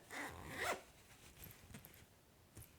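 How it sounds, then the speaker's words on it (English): A Valentine's Day notion pouch for knitting and crochet being zipped: one quick, close zipper run, then a few faint small clicks in a quiet room. "It's a zipper."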